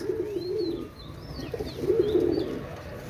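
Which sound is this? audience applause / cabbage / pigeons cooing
pigeons cooing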